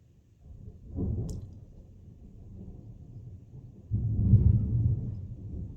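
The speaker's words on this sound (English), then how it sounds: "this is the first thunder I've heard" Distant thunder rolling in low, soft rumbles, one swell early and a heavier, closer-sounding rumble toward the end, with no talk.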